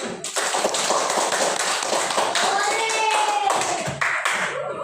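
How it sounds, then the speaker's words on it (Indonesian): Several schoolchildren in a third-grade classroom clap their hands together in a brisk burst of applause lasting a few seconds, fairly close and loud. "Beri tepuk tangan untuk kalian."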